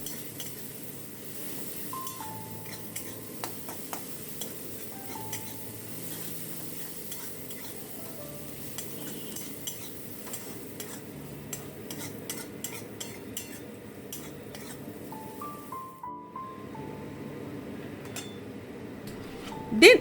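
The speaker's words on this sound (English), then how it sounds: "Now add 1 tablespoon of garlic paste and fry for some time." Garlic paste frying in a pan for a Bengali crab curry, a soft steady sizzle under repeated light scrapes and clinks of a spoon stirring against the metal, close and fairly quiet throughout.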